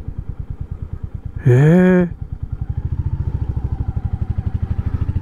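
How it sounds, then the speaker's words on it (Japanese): A motorcycle engine idles nearby in a steady, fast, lumpy putter throughout, briefly covered by a short exclaiming voice near the start, then chugging on alone. "ちょっとどっかにバイク止めて見させてもらおうか"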